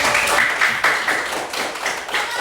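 Classroom students clapping in appreciation for three student groups, a brief round of close, uneven claps and taps.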